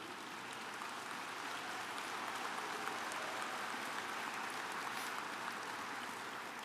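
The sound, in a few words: audience applause at a shareholder meeting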